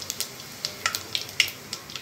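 Mustard seeds and cumin sizzle in hot oil, a soft steady crackle with scattered sharp pops and spits, close and fairly quiet with no talking.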